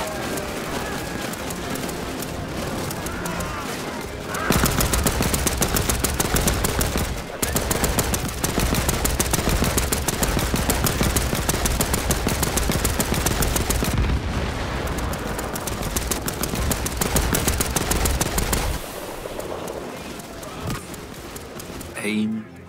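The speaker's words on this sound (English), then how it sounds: "Get on that machine gun!" Sustained machine gun fire rattles in Land of War - The Beginning, a rapid, loud, close stream of shots running for about fifteen seconds after a quieter lead-in, with voices talking over the combat.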